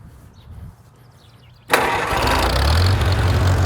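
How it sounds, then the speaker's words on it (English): A 1948 Farmall Cub tractor with the choke on sits quietly, then its engine suddenly catches and settles into a loud, steady, close-up running rumble. "let me see if I can't get her started up"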